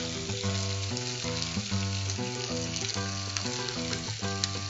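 Onions fry with ginger garlic paste in a pan for a Thalassery biryani gravy, a steady sizzle running continuously beneath prominent melodic background music.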